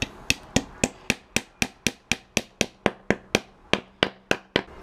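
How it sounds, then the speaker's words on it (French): A wooden dowel is driven fully into a hole in a wood joint with about seventeen steady, evenly paced hammer blows, each a sharp close knock with a short decay. "je viens mettre ma cheville comme ceci, comme l'autre, mais je l'enfonce entièrement"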